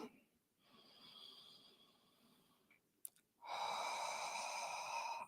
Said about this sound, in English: you breathe in through your nose, and on count of 5, you breathe out through your nose